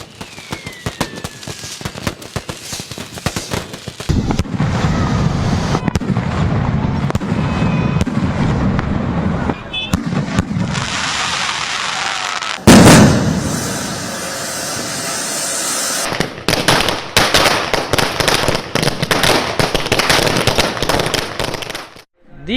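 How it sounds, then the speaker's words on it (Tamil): Diwali firecrackers burst in rapid, crackling strings, loud and close, with dense chains of pops, a brief gap, then a sharp blast followed by more rattling volleys before fading out. "குழந்தைகள் முதல் பெரியவர்கள் வரை ரொம்ப விருப்பப்பட்டு பட்டாசு வெடிப்பது"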